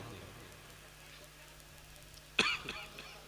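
A man coughs once sharply and loudly near the mic, followed by a smaller throat sound, after a stretch of quiet room tone during a religious talk.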